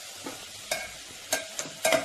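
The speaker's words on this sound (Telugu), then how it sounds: "మళ్ళీ ఒకసారి మొత్తం కూడా ఇలా మిక్స్ చేసేసుకుంటాను." Coconut chilli masala biryani being stirred in a pan, with a few scraping strokes of a spoon over a steady sizzle, close up and with no voices.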